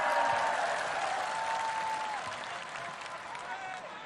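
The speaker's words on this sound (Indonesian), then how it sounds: "tepuk tangan dulu buat semuanya." A crowd applauds at an Indonesian political party's ninth anniversary rally, steady clapping that slowly fades under faint voices in a large hall.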